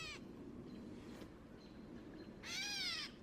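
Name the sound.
gray catbird call, cat-like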